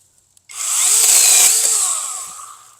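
A SeeSii cordless mini chainsaw cuts through a tree limb, whirring up sharply and holding a high-pitched buzzing whine for about two seconds before tapering off, close and loud.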